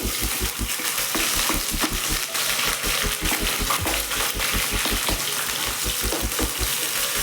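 Green chillies and curry leaves sizzle in hot oil for a soy chunks fry, with a steady crackle and rapid, regular tapping like stirring throughout.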